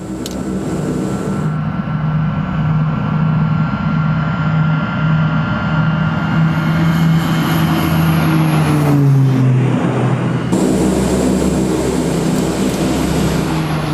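Hercules transport aircraft climbing rapidly to 18,000 feet with skydivers aboard: a loud, steady engine drone with a tonal hum throughout, its pitch shifting and sliding down about two-thirds of the way through.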